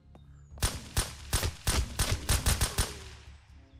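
AK rifle gunfire in the video game Surroundead: a rapid burst of roughly nine sharp, punchy shots in quick succession, loud and near, fading into a brief tail with no speech.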